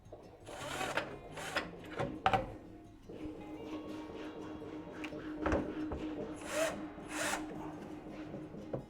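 A screw is tightened into an IKEA Trones shoe rack being mounted to a wall, giving close, intermittent creaks, rubbing scrapes and clicks of a screwdriver turning.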